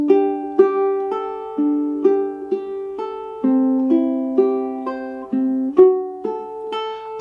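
A ukulele is finger-picked in a steady arpeggio pattern, clear, close plucked notes ringing one after another, with a slightly hesitant chord change partway through and the picking rhythm continuing unbroken.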